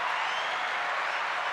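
A short burst of steady applause from a crowd, dense clapping that stays at one level throughout.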